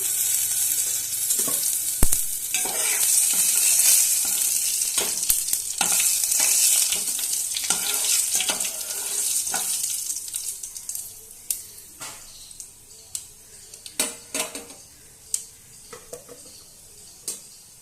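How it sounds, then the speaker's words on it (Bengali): Panch phoron, dried red chilli and bay leaf spluttering in hot oil, a bright crackling sizzle with sharp pops and spoon scrapes against the pan, thinning out into sparse clicks and stirring knocks toward the end. "এবার ফোড়নে দিয়ে দেব সামান্য পরিমাণ পাঁচ ফোড়ন শুকনো লঙ্কা আর তেজপাতাটা দিয়ে দিলাম"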